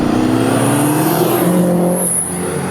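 A Lancia Delta rally car's engine roars loud and close while driving in Moscow, a sustained throaty drone with a slight pitch shift and easing off toward the end.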